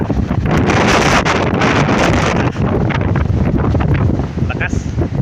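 Strong typhoon wind blasting outdoors near trees, a loud, continuous roar buffeting the microphone with rustling and gusts, steady for several seconds.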